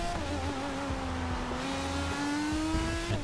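A race car engine drones and shifts pitch as it drives the wet Nurburgring track in the rain, steady in-car sound with a sustained tone rising and falling slightly.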